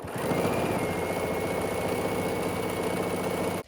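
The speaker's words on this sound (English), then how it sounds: "I just sew till I get to my fingers" Sewing machine running steadily while stitching binding onto a quilt, a continuous close mechanical hum and whir that holds even for several seconds before stopping abruptly.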